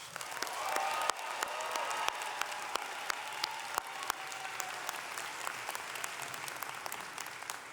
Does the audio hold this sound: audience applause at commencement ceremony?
yes